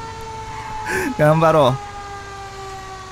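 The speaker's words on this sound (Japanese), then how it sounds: "サイレンも2つついてるのでね、使っていきます。" A fire truck siren in the video game GTA5 wails steadily in a long tone under someone speaking, continuing after he stops, moderately loud.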